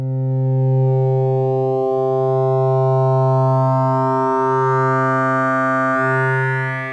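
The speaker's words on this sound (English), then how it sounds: "we are hearing the Buchla's sine wave" A pure sine tone from the complex oscillator of the Buchla Easel V, Arturia's software synth, sits steady and loud for the full length, with only slight dips in level about every two seconds.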